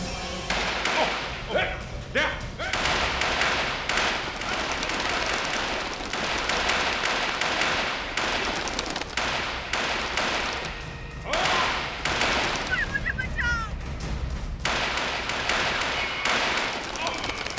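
Repeated gunshots crack out in irregular bursts amid a loud, chaotic jungle scene in a TV crime drama, with voices talking and shouting throughout.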